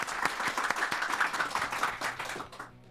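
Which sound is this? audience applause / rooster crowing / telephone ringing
audience applause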